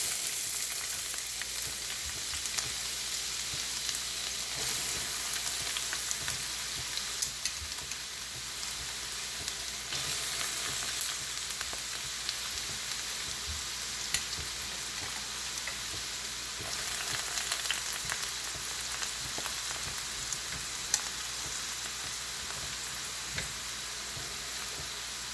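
Finely chopped onion frying in hot coconut oil for a coconut chana masala, giving a steady, close, even sizzle that holds for the whole stretch with no voices.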